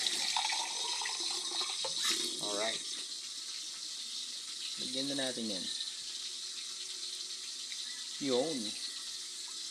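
Tap water runs into a pot while paksiw is being cooked in a home kitchen, a steady splashing hiss throughout, with a person speaking briefly over it several times.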